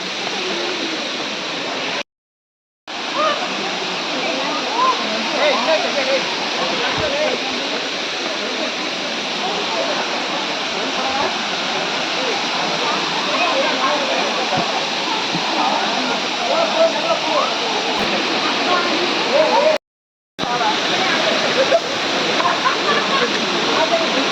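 Sirimane waterfall pours in a steady, loud, continuous roar of rushing water, close by, broken by two brief drop-outs of silence.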